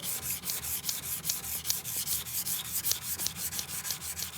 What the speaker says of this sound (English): I'm just gonna finish my polishing on this, going longitudinally straight back and forth. So this is our 220 grit.